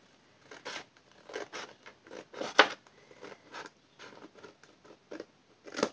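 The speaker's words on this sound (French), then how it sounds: "mon ciseau" Scissors cutting paper for a scrapbook-style mask protector, a quick run of close, crisp snips in uneven bursts with short pauses between cuts.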